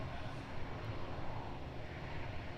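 A fixed-wing aircraft landing at Edinburgh Airport, heard as a faint, steady low engine rumble and roar from a distance, continuous and without talking.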